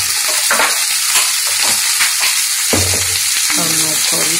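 Sliced karela bhujiya fries in hot oil in a pan on low heat, a loud, close, continuous sizzle broken by the scrape of occasional stirring.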